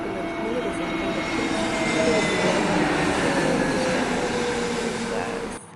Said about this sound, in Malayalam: ഇതാ ഗൈസ് ഒരു ഫ്ലൈറ്റ് പറക്കുന്നത്, നല്ല രസമാണ്